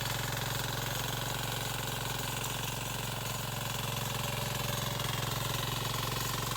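A small diesel power tiller mini tractor engine runs steadily at a constant pace, a continuous low chugging drone that is fairly faint and unbroken.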